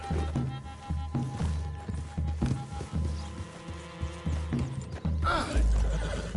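A horse whinnies near the end over steady hoofbeats and a low throbbing hum, with background music running throughout, in the video game Red Dead Redemption 2.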